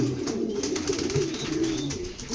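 Young pigeons, about 25 days old, coo softly in a loft, a low continuous murmur of overlapping coos close by with a faint background hiss.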